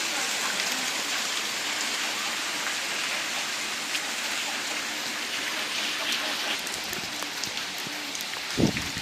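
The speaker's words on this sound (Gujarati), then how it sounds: "ચારે બાજુ વરસાદ છે ફૂલ" A steady roar of heavy late-monsoon rain in a Gujarat village surrounds the listener, dense and continuous, with a brief thump near the end.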